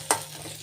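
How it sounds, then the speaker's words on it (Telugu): Tempering spices crackle in hot oil with a single sharp pop at the start, then a faint, low sizzle trailing off quietly. "పోపు వేగిపోయిందండి"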